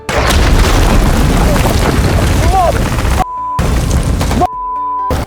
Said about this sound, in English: an enemy pickup rolled in and fired a rocket before they could react